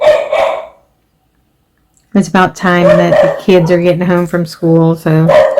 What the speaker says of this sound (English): He's barking at somebody walking by.